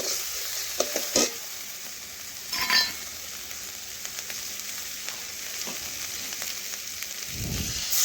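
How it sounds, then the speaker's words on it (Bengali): Tomato, ginger, cumin and spice paste frying in a pan while being stirred, a continuous close sizzle broken by scraping strokes and occasional utensil knocks. "এখন ভালোভাবে টমেটো ও আদা জিরে মশলা একটু কষে নিচ্ছি।"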